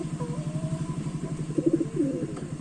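Soft cooing of Giribaj pigeons close by, low murmuring calls rising and falling in short phrases over a faint, pulsing background hum.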